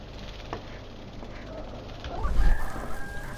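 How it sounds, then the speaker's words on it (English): A cockerel crows in slow motion within a video game, a drawn-out, deepened crow rising over ambient game sounds and fairly loud near the end. "it might just be a slow motion version of the cockerel crying"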